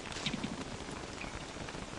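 Steady rain hiss falls in the video game Don't Starve, a constant broadband patter with no pauses and no voices.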